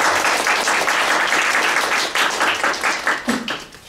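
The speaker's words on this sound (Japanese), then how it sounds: "とりあえず拍手かな。" Audience applause after a technical talk, a steady wash of many hands clapping at close range that thins and fades out near the end.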